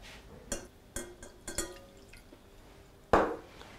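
Water poured into a saucepan for cooking sugar syrup, heard as a few soft splashes and drips in a quiet kitchen, ending with a brief louder splash of pouring.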